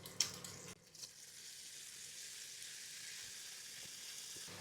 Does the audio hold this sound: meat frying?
yes